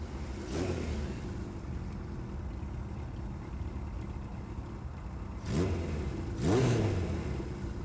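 A motorcycle engine idles at a low rumble, then revs in two sharp rising bursts near the end, moderately close with no talking.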